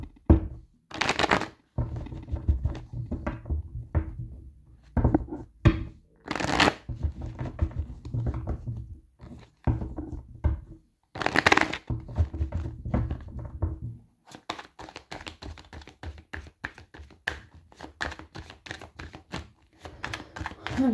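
Oracle cards being shuffled by hand, bursts of rapid riffling and flicking with thumps between them, the shuffling growing more continuous toward the end, close and clear, with a little quiet talk mixed in.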